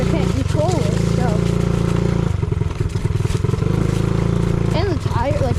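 A small mini bike engine chugs at a very low idle, its carburetor flooded with too much fuel, giving a steady, close, throbbing putter while someone talks over it.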